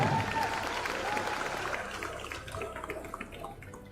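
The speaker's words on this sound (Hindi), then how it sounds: "एक बार ताली तो बजता है।" A crowd claps at an MLA's birthday event during a cheque presentation, a dense, steady patter of applause held throughout and easing slightly toward the end.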